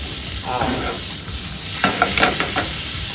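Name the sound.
scallops searing in butter in a pan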